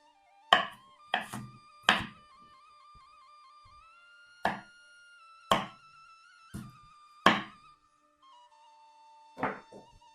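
Peeled onions chopped into small pieces on a board: sharp, close knife thunks come in quick bursts of two or three with short pauses between, no one talking.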